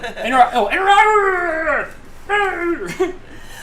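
A person imitates a dog with drawn-out, howling yelps, two vocal bursts close to the microphone with a short pause between them, done as the punchline of an interrupting-dog knock-knock joke.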